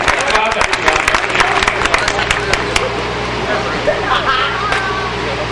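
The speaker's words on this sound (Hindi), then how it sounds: "एक बार सारा सदन समवेत मुझे आदेश करे ताली बजाकर" At a Hindi poetry recital, a kavi sammelan in Sampla, the audience claps with a dense patter that fades over a few seconds, and crowd murmur continues underneath.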